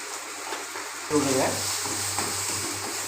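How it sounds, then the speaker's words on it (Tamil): Masala with Kashmiri chili powder and turmeric, stirred in a frying pan for a beef gravy: a scraping stir starts about a second in over a continuous hiss of frying, and a faint voice is partly audible. "மசாலா நல்லா அதோட மிஸ் ஆகிறது நல்லா கிண்டிடுங்க"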